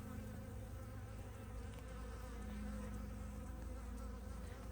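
A steady, dense buzz of many honeybees, close and continuous, with a low droning hum throughout and no voices.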